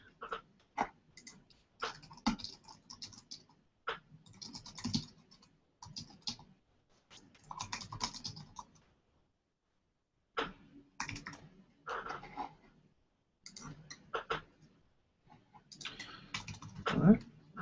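Quiet, close typing on a computer keyboard comes in irregular bursts of key clicks separated by short pauses, as a reply is written into an online discussion forum.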